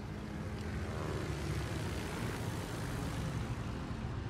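American bomber aircraft fly in World of Warships, their propeller engine drone a steady, faint, even hum that holds without change across the whole stretch.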